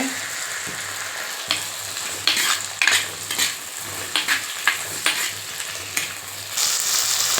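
Grated coconut is mixed and sautéed in a pan for an okra tamarind curry: a loud, close sizzle punctuated by repeated metal spatula scrapes and clinks against the pan.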